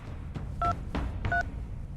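Two beeping keypad tones sound as a telephone number is dialed, each short and clear, set over a low room hum with faint muffled knocks; no voices are heard.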